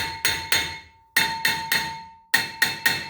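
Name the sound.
hammer tapping rusted brake rotor on Ford F-150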